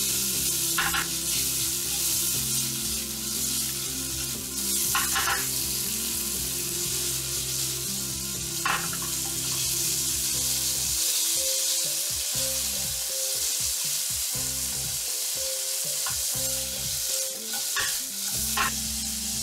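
Sausage with tomato sauce stir-fries in a pan, a steady sizzle under repeated scraping stirs of the utensil, close and continuous with no talk.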